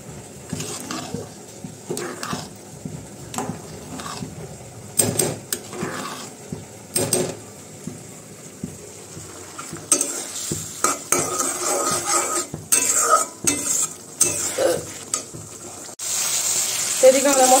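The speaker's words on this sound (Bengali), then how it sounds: "তো এখন মশলার সাথে কষাবো আলু আর পেঁয়াজ দিয়ে।" Potatoes and onions are stirred and sautéed with ginger-garlic paste and spices in a pan, giving repeated scraping and clinking stirs with a soft sizzle underneath, close and moderately loud, with no talk.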